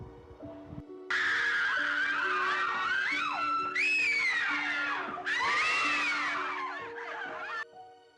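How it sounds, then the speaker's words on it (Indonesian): In a horror radio drama, several women scream in long, wavering, overlapping cries that rise and fall over a low sustained tone, loud and continuous for several seconds. "mendengar suara teriakan-teriakan dari beberapa orang wanita"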